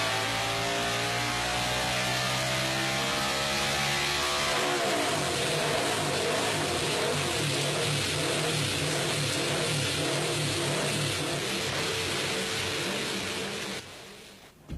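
Britten motorcycle's new engine revving hard on a dynamometer, first with steady rising harmonic tones, then turning rough and uneven as it misfires, loud and continuous throughout before cutting off at the end.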